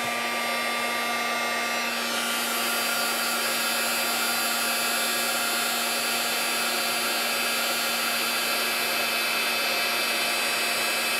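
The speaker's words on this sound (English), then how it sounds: "I love to watch the embossing happen." A heat tool blows steadily to melt embossing powder in a card-making technique, a constant loud whirring hum that runs without a break.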